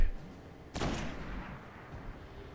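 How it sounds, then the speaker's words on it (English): A single sniper rifle shot rings out in the shooter game Destiny, one sharp, loud crack followed by a fading echo tail, with a faint voice nearby. "I'm going to snipe from here."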